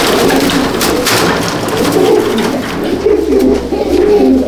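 Silver Shiraz fancy pigeons of Kashmiri type coo steadily in a loft, several birds overlapping in low rolling calls that continue throughout under a constant background hiss.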